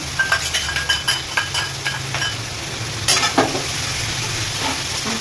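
Chili, tomato sauce and Schezwan sauce sizzle loudly in a pan, a bright hiss with a quick run of spatula clicks and scrapes at the start and a louder scrape about midway.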